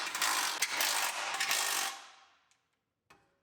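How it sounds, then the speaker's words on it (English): A ratchet wrench tightens a bolt on a car during a build, a steady close whirring click run for about two seconds that then stops, followed by a couple of light metallic taps. "And tighten up the other side."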